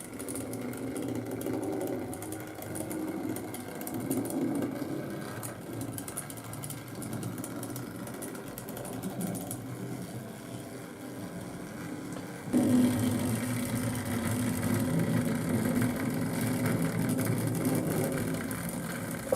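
A Hornby Dublo Class 20 diesel model locomotive runs on a test layout with a continuous whirring motor hum that wavers slightly, then grows louder and brighter partway through as it moves to a noisier section of the board.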